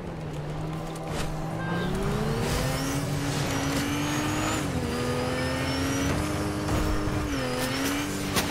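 A car in the Fortnite video game drives steadily with a loud, continuous engine drone. The pitch climbs and shifts as it accelerates and changes gear, with faint music or effects underneath.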